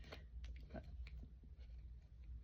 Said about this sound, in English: Don't tell me you chew juicy fruit bubble gum.